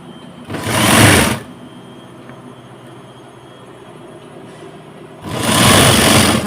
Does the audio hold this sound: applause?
no